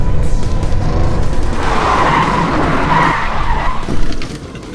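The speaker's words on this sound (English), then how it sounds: "Crisper you are on that turn, snappier the spin becomes." A car spins through a sharp stunt-driving turn, its tires screeching in a long, loud skid over a steady engine roar, close up and without voices.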